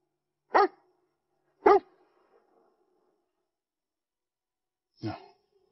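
Three sharp dog barks, spaced apart and close by, with silence between them and no talking.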